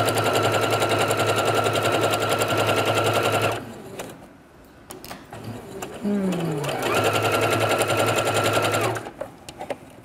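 An electric sewing machine stitches fabric with longer stitches for a pencil case, a loud close rapid mechanical whirring in two long runs separated by a pause with handling noise.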